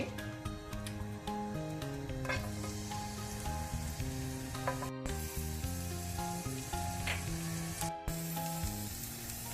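Ginger and garlic frying in a little ghee in a pan, a steady close sizzle throughout, with music playing over it.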